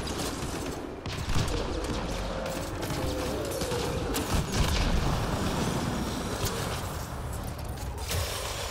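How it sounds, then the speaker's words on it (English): Flank cannon fire in the video game Mass Effect Andromeda, a loud, sustained stream of rapid gunshots and mechanical booms during combat against an armored enemy, continuous over several seconds with no voices. "So hit him with flank cannon shots"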